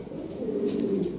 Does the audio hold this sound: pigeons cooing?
yes